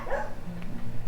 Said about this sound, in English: he's a little brown dog